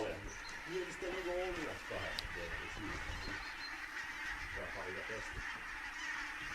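Geese honk repeatedly in a loose, overlapping flock, loud and fairly close, with people talking over them during a repair job outdoors.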